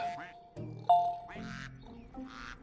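Cartoonish duck quacks from the video game Stonehearth, several short nasal calls in quick succession, close and clear, with bright chiming game tones between them.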